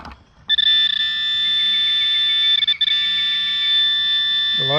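A metal detector sounds a steady, shrill electronic target tone that holds for several seconds, wavers briefly midway, then sweeps upward at the end.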